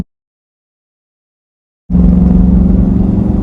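A Hemi V8 swapped into a Jeep JK starts up after silence, settling into a loud, steady low rumble close by with no voices.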